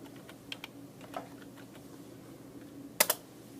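Quiet keystrokes on a computer keyboard tap out a book title in a library catalogue search, a few soft scattered clicks followed by a sharper, louder burst of typing near the end.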